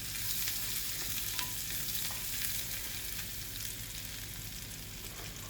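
Green chillies and onion fry in oil in a pan, giving a steady close hiss and sizzle with faint stirring clicks throughout and no talking.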